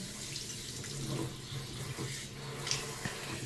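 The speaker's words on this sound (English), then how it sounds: "Wait for my rinsing technique." Dishes are rinsed under a running kitchen tap, a soft continuous hiss of water with a few faint clinks, quiet and close.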